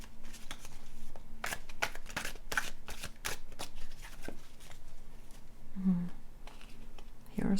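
Tarot cards are shuffled in a close series of crisp riffling bursts and soft slaps, with a quiet voice murmuring underneath.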